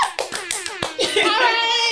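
Several sharp, evenly spaced claps play as a sound effect from a homemade podcast soundboard, close and crisp, then give way to voices and laughter from the hosts.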